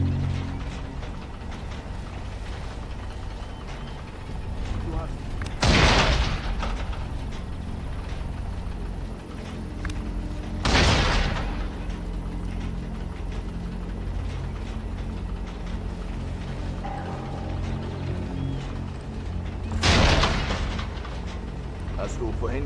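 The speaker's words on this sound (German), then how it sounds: "Hast du vorhin diese Explosion gehört?" Explosions in the World War II sniper shooter Sniper Elite, with three loud booming blasts spaced several seconds apart over a steady layer of game noise.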